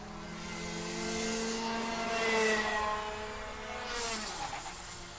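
Rotex Max Junior karts racing in a round 4 final, a sustained, loud buzzing engine whine that swells and fades with Doppler pitch sweeps as several karts pass close by in succession.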